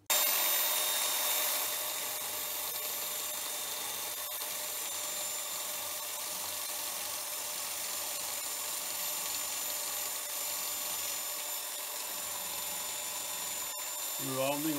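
Hand scraper working the base ways of an HBM45 machine in a roughing pass, a faint steady scratchy hiss of metal being scraped under a continuous background hum, with a voice speaking at times.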